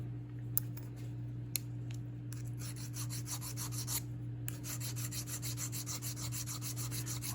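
A medium diamond hone stone rubs against Marlin 81-DL .22 trigger parts in quiet, rhythmic strokes, a soft scraping rasp repeated steadily over a low steady hum.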